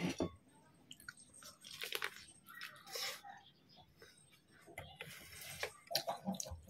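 Close, crunchy bites into boiled corn on the cob followed by wet chewing, repeated in short bursts, with quiet talking in between.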